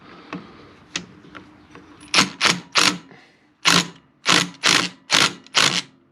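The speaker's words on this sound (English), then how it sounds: "today it's getting the rattle gun treatment" An impact wrench works a nut on a Honda 143cc big bore engine, first with faint taps, then a series of about eight loud, evenly spaced hammering bursts, up close and without talk.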